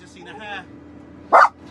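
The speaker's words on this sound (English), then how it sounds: "Excuse my dog, he's just seen a hare." A dog gives one short, loud bark near the end after spotting a hare in a yard where hedges are being trimmed, with someone talking earlier in the clip.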